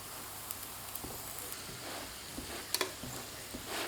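A homemade flatbread fries in a pan with a soft, steady sizzle and faint crackles, plus a few light taps and one sharper clack near the end, all fairly quiet with no voices.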